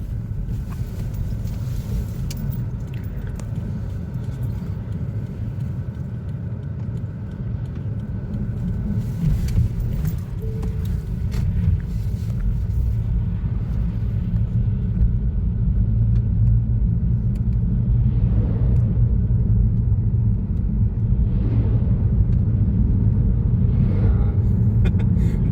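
A Volkswagen Golf with a heavily carbon-fouled engine is driving, heard from inside the cabin as a steady, deep engine and road rumble that grows gradually louder, with light wind noise on the microphone.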